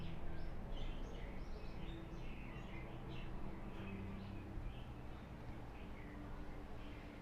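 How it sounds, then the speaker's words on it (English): Several birds chirp and call in the distance over a steady low background hum, their short notes scattered throughout. "I hear different birds."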